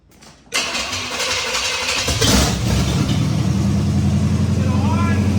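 A new truck's engine cranks and catches, then settles into a loud, steady idle close to the microphone, with people talking nearby.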